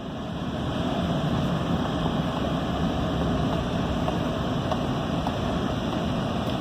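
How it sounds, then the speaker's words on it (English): Engines run steadily in the distance, a continuous low rumbling drone that holds even and unbroken throughout, with no talking. "Yeah, I can start to hear engines running now."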